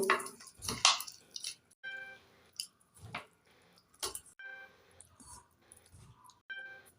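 Wet squishing and sticky squelching as fish roe is kneaded by hand with salt, turmeric and chili powder, in irregular close bursts with short pauses between.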